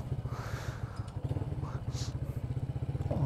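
Bajaj Rouser NS125 fuel-injected motorcycle engine with a full-system exhaust, replaced elbow and muffler and no catalytic converter, running with a steady fast low putter close by.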